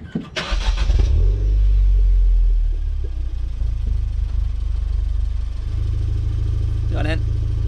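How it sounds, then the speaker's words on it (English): A Ford Fiesta ST fitted with a KMS Hurricane exhaust starts up with a loud bark, then settles into a deep steady idle, followed by a quick sharp rev near the end, heard close up. "And then we got a quick sound test."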